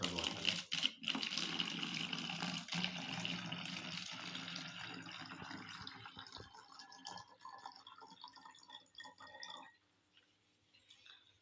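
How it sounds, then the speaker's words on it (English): Water poured into a plastic water bottle in a classroom science demonstration, a fairly faint trickling, splashing fill that thins out and stops near the end, with no talking. "Now I am going to pour water into the water bottle."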